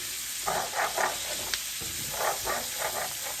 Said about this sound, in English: And we're going to let those saute. Look at those onions.